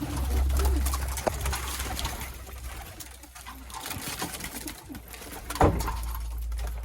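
A pigeon coos in low, throaty repeated phrases close by, with background rustling and a sharp knock near the end.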